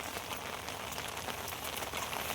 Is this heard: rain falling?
yes